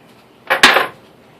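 Fork lifted out from among metal kitchen utensils, a short bright clatter of two quick clinks, close and alone against a quiet background.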